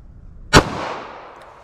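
A single sharp 9mm pistol shot firing Federal HST ammunition, loud and close, with a short decaying echo tail and no talking.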